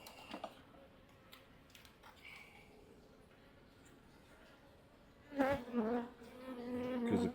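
Honey bees hum faintly and continuously in a hive nearby, with a louder burst of buzzing and rustling toward the end.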